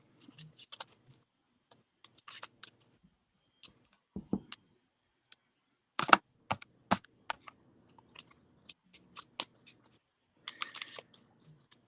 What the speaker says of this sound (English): I'm still pulling the cards, so just a moment.